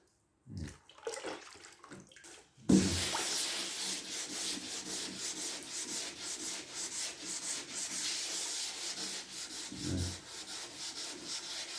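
Primer filler on a VW Beetle trailer is wet-rubbed, starting with a few light strokes, then a loud, continuous, close scrubbing rasp with a steady rhythm and water in it.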